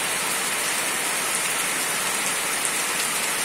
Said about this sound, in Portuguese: Olha, momento de chuva.